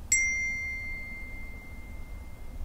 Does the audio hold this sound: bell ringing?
yes